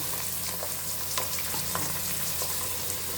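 Onions with carrots, beans, potatoes and peas frying in oil in a pan, a steady close sizzle with light stirring clicks and scrapes throughout, no talking.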